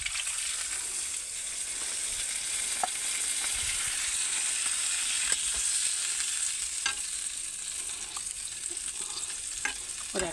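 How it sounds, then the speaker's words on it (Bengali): Tengra fish masala frying in a pan sizzles steadily after water is added, a constant hiss with occasional clinks and stirring sounds, close and fairly quiet, with no talking. "এবার আমি একটু জল দিয়ে দেবো গাইস। দেখো এবার জলটা আমি দিয়ে দেবো।"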